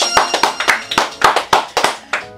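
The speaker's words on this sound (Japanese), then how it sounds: "はい、拍手。" Rapid hand clapping from a small gathering celebrating a YouTube channel reaching 1,500 subscribers: about a dozen sharp, close claps in an uneven rhythm lasting a couple of seconds, with no talking over them.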